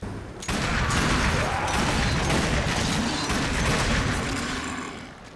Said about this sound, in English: a nice meaty impactful blast erupting from my speakers with each trigger pull